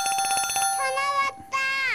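Telephone ringtone signalling an incoming caller on a live Korean stock-advice phone-in broadcast, a loud electronic tone pattern repeating in bursts with a brief gap, heard alone.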